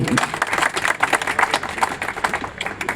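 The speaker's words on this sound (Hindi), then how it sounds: "एक बार मैं दिल से चाहता हूं दोस्तों अपने लिए जोरदार तालियों से।" A crowd at an outdoor public address on street vendors' rights in Munshi Pulia claps loudly and continuously, a dense rattle of many hands close by, with some murmuring mixed in.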